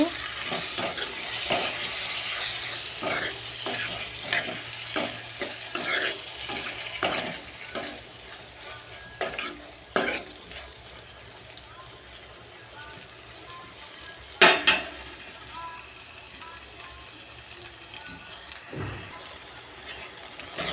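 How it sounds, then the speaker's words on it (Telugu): Tomato pieces for egg curry cook in a pan with a soft, steady sizzle and occasional stirring clicks and scrapes, fairly quiet, while a person talks throughout. "టమాటా ముక్కలు అనేది తొందరగా ఉడుకుతుంది"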